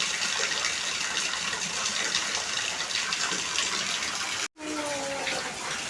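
Rainwater floods a yard, rushing steadily and continuously, fairly loud and broadband, with a brief cut near the end before the flow resumes.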